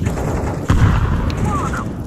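Grenade explosion in Counter-Strike 2 video game, a sudden deep boom partway through over ongoing game noise, with a voice briefly audible in the background.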